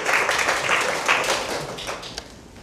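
Audience clapping at a lecture on free riders in organizations, a burst of applause that is loud at first and then gradually thins and fades.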